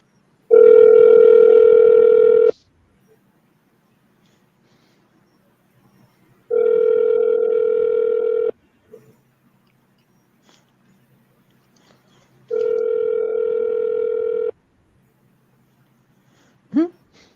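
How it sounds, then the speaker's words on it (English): Telephone ring tones play during a call-in on WZYE 95.9 FM radio. Three loud, even electronic bursts of about two seconds each are spaced by silent gaps, followed by a brief click at the end. "That's the phone ring."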